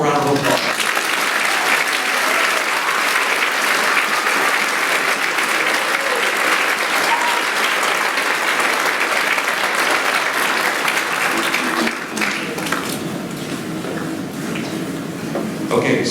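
Sustained audience applause at a school orchestra festival concert honouring student performers, a dense, loud wash of clapping that carries on evenly before thinning slightly near the end.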